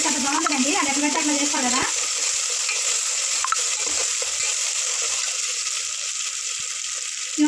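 Ginger paste frying in a pan for goat head curry, a continuous sizzle with stirring, briefly under a voice at the start.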